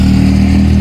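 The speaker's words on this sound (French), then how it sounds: "la moto qui passe en même temps" A motorcycle engine passes close by on a street, a loud, steady low-pitched drone filling the whole moment without any voices over it.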